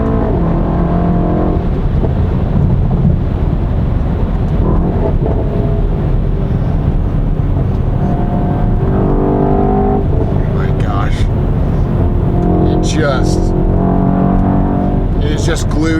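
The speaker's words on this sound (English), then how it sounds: "that engine sounds awesome" A Mercedes-AMG E63 S Edition 1 4MATIC+ engine drones steadily from inside the cabin while driving, a continuous low rumble with faint high chirps near the end and no talking.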